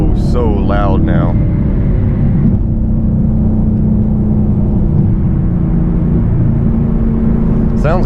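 A loud car driving with a steady, droning engine and road roar close up, with people talking briefly over it at the start.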